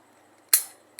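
A replica revolver of a 1990s-era model is cocked once, the hammer giving a sharp close metallic snap, followed by a smaller faint click a moment later.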